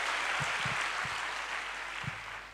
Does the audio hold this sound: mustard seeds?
no